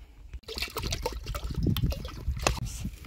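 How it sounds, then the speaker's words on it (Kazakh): Water poured into a cauldron to start fish soup outdoors over a fire, a continuous splashing, gurgling stream close by with shifting intensity. "Мына қазір уқы от жағудан қазанға су қойып тазалаудан басталады."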